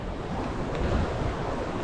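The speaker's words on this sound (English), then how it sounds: "listen to that water underneath me" River water rushes loudly and continuously beneath a trekker, a broad steady roar like a fast-flowing river close by.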